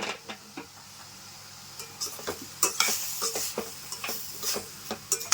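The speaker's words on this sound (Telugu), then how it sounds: "అప్పటిదాకా వేయించుకోవాలి మాడకుండా మధ్య మధ్యలో కలుపుకుంటూ చూసుకుంటూ ఉండాలి" Bottle gourd frying in ghee for a halwa, with occasional stirring: soft spatula scrapes and clinks recur irregularly over a quiet, low background sizzle, close up.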